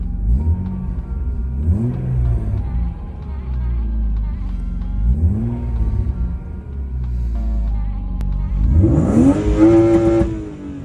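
A BMW E36 engine revs up and falls back several times up close in a low, throaty pattern, ending in a louder, higher climb.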